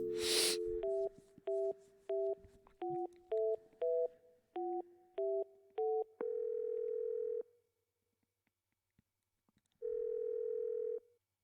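Telephone tones from the video game Yesterday: a run of short two-tone dialing beeps followed by two long steady ringing tones with a gap between, clear and close with no talk.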